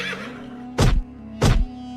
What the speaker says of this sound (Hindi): एक स्थान पर अचानक घोड़ा रुक जाता है और हिनहिनाने लगता है।